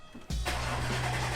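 Audi S4 cold start: a brief quiet, then the starter catches and the engine fires into a loud, steady high idle that holds to the end.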